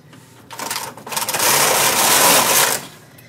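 White Magic Knitter knitting machine carriage sweeping across a row in tuck stitch, a close, loud mechanical clattering whir that builds, holds for about two seconds, then stops, with no voices.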